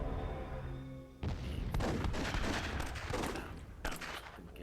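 Cannon and gunfire from a Myth II Soulblighter WWII battle: a quiet stretch gives way to a dense, sustained barrage of booming shots and crackling fire, loud and continuous, with a fresh burst near the end.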